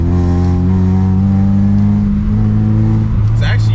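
A tuned Honda Prelude street car being driven, its engine holding a steady low drone that rises slightly in pitch, loud and close from inside the cabin, with a brief higher noise near the end.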